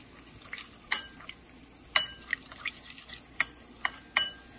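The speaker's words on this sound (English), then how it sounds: "Mix it well." A spoon stirs a cornflour and water mixture in a bowl, giving close, irregular clinks and scrapes against the dish, with sharper taps about once a second over a soft background.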